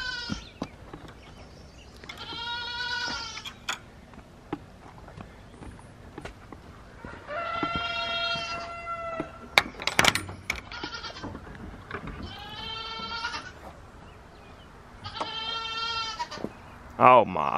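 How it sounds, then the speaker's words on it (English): Several goats bleat repeatedly, waiting to be let out, loud wavering cries coming in bursts every few seconds, mixed with rustling, thumps and occasional hoof sounds nearby. "The goats want out."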